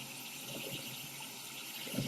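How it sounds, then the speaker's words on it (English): Steady broadband rush of a waterfall in the jungle region of Borneo, a continuous hiss-like wash of falling water at moderate distance with no break across the short stretch. "So this is a waterfall in the area"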